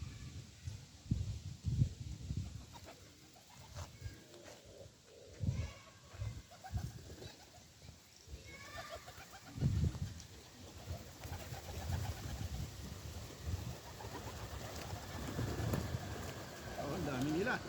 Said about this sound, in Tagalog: Yan yung mga ibon.